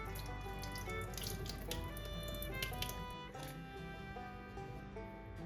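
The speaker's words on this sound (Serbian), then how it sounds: "Ja ih perem pod mlazom hladne vode i ovaj proces ponavljam 2 puta." Cold water runs from a kitchen tap while apricots are rinsed beneath the stream, a steady splashing flow with light clinks and patters, close and fairly quiet, with no talking.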